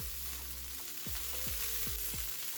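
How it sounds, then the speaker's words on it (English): Buttered burger buns toast in a hot skillet, giving a steady close sizzle with a handful of soft knocks and shifts as they settle; quiet overall and without speech. "So I'm going to put these onto the skillet. Leave them to toast."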